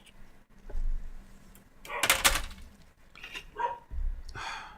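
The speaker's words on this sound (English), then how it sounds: "Dog again." A neighbour's dog barks outdoors at a distance, a few scattered barks mixed with bumps and rustling noises, heard faintly through a room with no talking.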